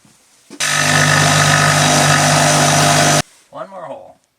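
A power saw fitted with a small, fine wood blade cuts through plywood in one loud, steady burst of roughly two and a half seconds, then stops, followed by a brief voice.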